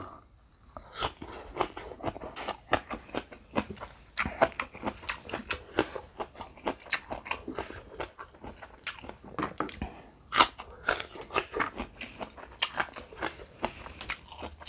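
Salted crab papaya salad with fresh vegetables is chewed up close, giving repeated crisp, crunchy bites and chewing that come in irregular bursts, fairly loud, with no talking.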